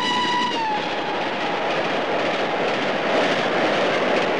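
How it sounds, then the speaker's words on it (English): A 1936 postal special steam train rushes past at night, a loud, steady roar of wheels and carriages close by, with a brief high whistle tone fading at the start. "while the postal special goes by"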